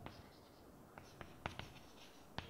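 A teacher writes on a classroom board during a history lesson, producing a few short, scratchy strokes at irregular intervals, fairly close but quiet, with soft background hiss and no talking.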